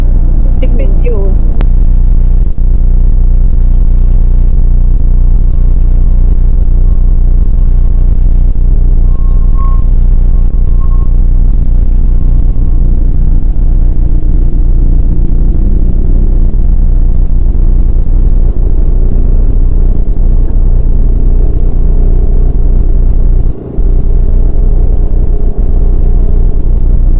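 Steady, loud low rumble of a Toyota Wigo on the road, engine droning inside the cabin with little variation over the long stretch, no talk, just constant road and motor noise.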